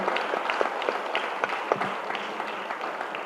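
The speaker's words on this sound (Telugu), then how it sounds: "అది గట్టిగా మరి కొట్టుకోవాలి కదా చప్పట్లు" An audience applauding at a one-day workshop, a steady patter of many hands clapping together at moderate distance, continuing evenly for a few seconds.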